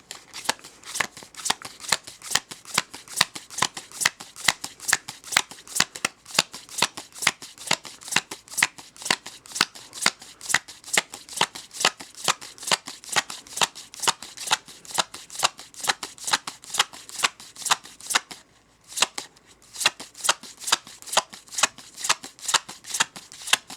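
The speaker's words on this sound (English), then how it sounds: "Let's take a card, put it right here, and then we're going to count through this deck" A deck of playing cards being counted through one card at a time while counting cards for blackjack, a fast steady stream of crisp flicks and snaps, close and clear, almost without pause.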